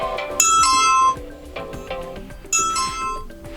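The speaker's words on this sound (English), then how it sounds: "ringtone" A bright electronic ringtone melody from an ASUS ROG Phone 5s plays twice, ringing out in short, chiming bursts with a brief pause between, loud and close.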